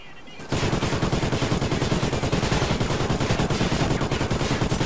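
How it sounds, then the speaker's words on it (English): In Call of Duty: Ghosts, a light machine gun opens up after a short quiet moment and keeps firing in one long, rapid, steady automatic stream at full, close volume. "Wait, hold on, what's that gun? Oh, nice, light machine gun."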